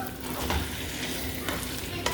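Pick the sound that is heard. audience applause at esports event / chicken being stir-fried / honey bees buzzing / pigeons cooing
chicken being stir-fried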